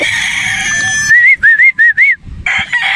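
A rooster, a brood stag, crows once in close, loud, broken phrases lasting about a second, with background bird noise before and after.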